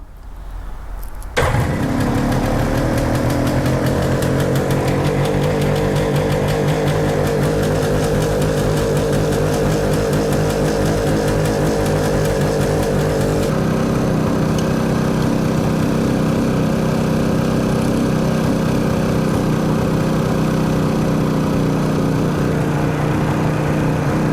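A Suzuki GT750 motorcycle engine with electrical problems starts with a sudden roar and runs loudly and steadily close by, its pitch dropping slightly partway through as it settles into a lower idle.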